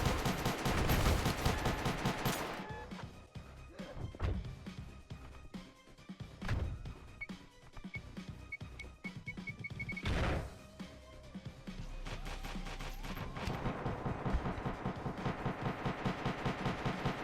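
Space Station 14 gunfire pours down a wide station hallway, with dense rattling automatic bursts, scattered heavy thuds and impacts, and the shooting going on almost without a break, loud at first and then steady.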